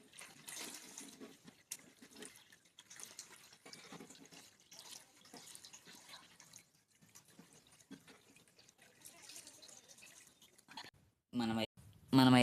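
Water being drained out of a home aquarium tank, a low steady trickle and gurgle running through most of the clip with a few short louder splashes near the end, with a voice talking over it.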